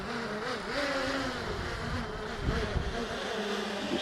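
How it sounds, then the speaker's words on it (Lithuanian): Small drone flying overhead on a breezy morning at home in Garliava, its steady buzzing whine holding throughout at moderate loudness with light wind noise underneath. "Galim paleisti biškį droną žemyn"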